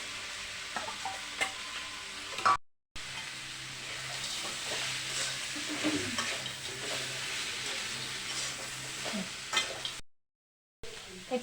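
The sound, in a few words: stirring fried eggplant, potato and lentil dumplings into pan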